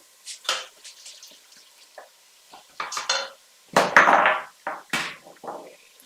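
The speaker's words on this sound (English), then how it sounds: "I'm now going to add my lentils to my pan" Dry lentils tipped into a pan in a home kitchen for lentil soup, giving a series of close, scattered rattling and scraping pours with brief clinks in irregular bursts and quiet gaps between.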